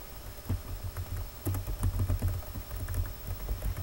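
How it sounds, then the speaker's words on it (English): Someone types on a computer keyboard while entering a web address, a steady run of quiet, close key clicks in uneven bursts with no talking. "You need to go to your address bar and type in Twitter feed."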